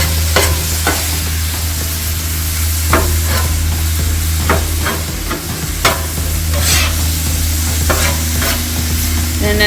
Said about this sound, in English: cook it on medium to medium low until your onions start to caramelize